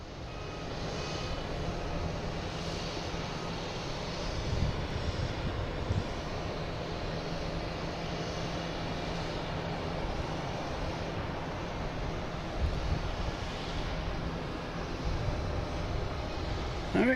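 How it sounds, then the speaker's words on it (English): A JetBlue Airbus A321neo takes off from Boston Logan, a continuous far-off engine roar with a steady broadband rush and no sharp peaks. "here we got JetBlue here taking off"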